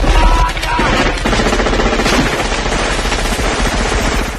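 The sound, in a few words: gunfire from soldiers in a Predator action film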